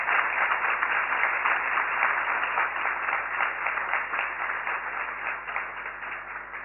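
Applause from a lecture audience at ISKCON Chowpatty, a dense, steady wash of many hands clapping throughout, loud and close, tapering slightly toward the end.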